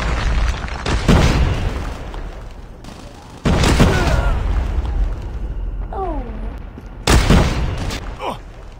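Frag grenade explosions in the video game Call of Duty, three loud booming blasts spaced a few seconds apart, each with a long rumbling tail, with brief voice sounds between them.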